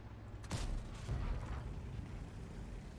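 The main gun of a British FV215b tier 10 heavy tank fires in World of Tanks, a single sharp boom with a second rumbling impact just after, over a low, steady engine drone.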